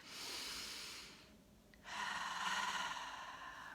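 Deep, slow breaths taken in quiet solitude as a calming exercise, heard as two long airy breath sounds close to the microphone, separated by a brief pause, with no talking.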